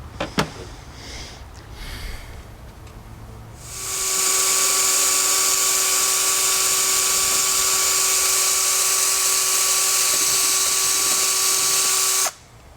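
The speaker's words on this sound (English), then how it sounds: "We're going to drill starter holes first, the smaller size." A power drill with a small bit bores starter holes into the trunk lid of a Honda Goldwing GL1800, running as a steady, loud high-pitched whine for about eight seconds after a few quiet knocks, then cutting off abruptly.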